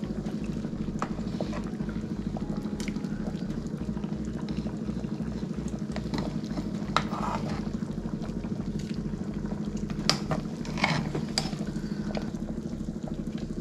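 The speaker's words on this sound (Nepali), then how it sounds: "एकछिन हामी यसलाई चाहिँ मजाले उमाल्न दिउँ" Liquid in a cooking pot of trotters boils steadily, a continuous low bubbling simmer heard close up with a few sharper pops and splashes.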